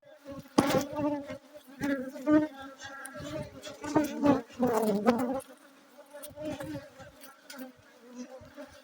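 Honey bees hum and buzz loudly at an opened hive just after smoking, the droning close and continuous. Occasional knocks and handling noises break in as a voice speaks intermittently.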